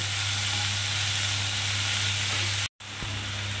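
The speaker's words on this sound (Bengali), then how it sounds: "আমি যে রসুন চিড়ে রেখেছি সেই রসুনগুলোকে আমি এর মধ্যে দিয়ে দেবো, দিয়ে একসঙ্গে এগুলো ভাজবো।" River snails frying in a pan with onion and crushed garlic, a loud steady close sizzle with a low hum beneath, briefly cut to silence before resuming.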